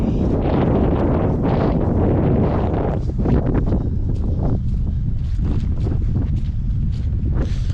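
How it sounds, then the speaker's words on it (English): Strong wind buffets the microphone along a Welsh coastal path, a loud continuous roar with gusty surges, and some faint rustling. "The wind's picked up, but it's very mild."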